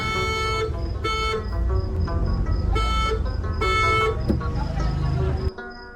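Car horns honk repeatedly in traffic, several long blasts in an irregular rhythm over engine and road noise, loud and close, ending abruptly.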